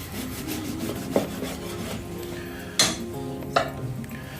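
Scraping and rubbing as a spoon hollows out a freshly baked brioche with its top removed, soft rasping throughout with a few sharper knocks of utensil against the bread or dish, close and alone.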